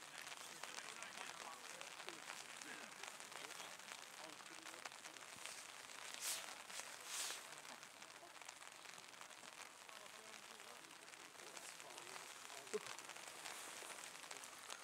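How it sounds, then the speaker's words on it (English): Steady rain patters down outdoors during a school rugby match between Waitaki Boys and Dunstan High, a dense, even hiss throughout with faint voices mixed in. "It's kind of raining now, eh?"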